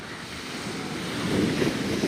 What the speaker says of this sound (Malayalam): കടൽഭിത്തിക്ക് മുകളിലൂടെയാണ് തിരമാല ഇടിച്ചു കയറിയത്